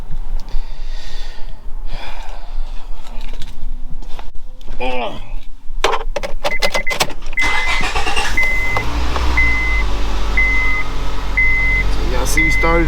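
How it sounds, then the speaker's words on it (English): A Honda Civic engine cranks and starts, a few sharp clicks and bursts giving way to a steady close idle with a repeating chime above it, while people talk nearby. "See, we started it right up."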